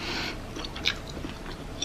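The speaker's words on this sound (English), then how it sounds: "Now it's time to eat my marshmallows." Marshmallows being chewed close to the mic, soft squishy mouth sounds with a few small crisp clicks over about two seconds, no talking.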